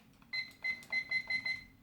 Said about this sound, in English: I'm going to set my timer now